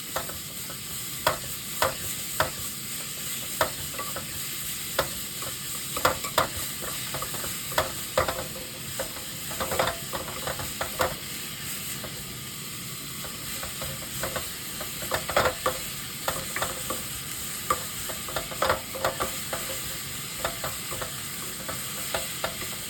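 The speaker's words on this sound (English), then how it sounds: "And caramelize the onion." Onion caramelizing in a pan for Japanese-style hamburger steak, a constant frying sizzle broken by frequent rhythmic scrapes and clacks of a stirring utensil, close and steady, no talking.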